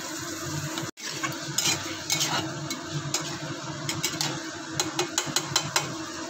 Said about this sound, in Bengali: এবারে এটাকে দিয়ে ভালো করে একদম কষা কষা করে একদম কষিয়ে নিতে হয় ভালো করে,